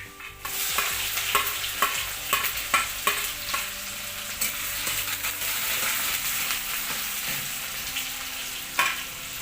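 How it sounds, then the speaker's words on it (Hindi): Cumin seeds and garlic fry in hot oil in a pan as a tempering for a Himachali greens dish, giving a steady close sizzle with repeated clicks and scrapes of stirring throughout. "तड़का लगने जा रहा है। जीरा और लहसुन दोनों इसमें डाल दिया है।"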